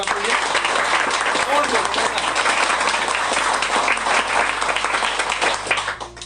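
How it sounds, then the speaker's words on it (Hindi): Classroom of students clapping loudly together after being asked to cheer for themselves, a dense, sustained burst of applause that fills the space and fades near the end. "तुम लोग अपने लिए ताली मार दो, मारो जोर से ताली मारो"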